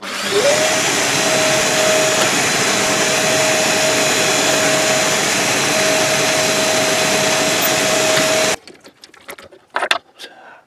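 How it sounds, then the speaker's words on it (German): An electric drill bores a 3 mm hole for 3 x 16 mm screws while building a homemade depth stop and caliper: a steady, loud motor whine with one sustained tone holds for about eight seconds, then cuts off, leaving a few faint knocks. "Und meine Schrauben sind 3 x 16 mm und jetzt bohre ich hier ein 3 mm Loch durch."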